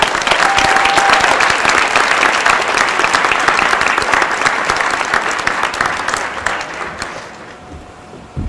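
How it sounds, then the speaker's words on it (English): Loud, sustained audience applause for graduating class of 2021 seniors at an excellence celebration, a dense wash of clapping that holds strong for several seconds before tapering off near the end, with no talk over it. "Please give them a round of applause."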